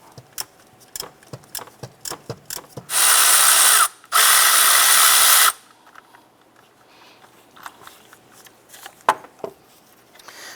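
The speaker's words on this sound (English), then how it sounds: "We use our 18mm socket here with our ratchet." A ratchet fitted with an 18mm socket loosens the upper starter bolt on a 2007-2012 Nissan Versa, giving two loud, sustained mechanical bursts close to the mic, with scattered sharp clicks and taps before and after.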